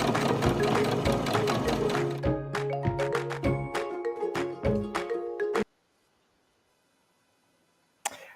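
A sewing machine runs fast and continuously, then breaks into a string of distinct rhythmic needle strokes while sewing decorative, forward and reverse stitches. It stops abruptly into near silence, and a single sharp click follows at the end.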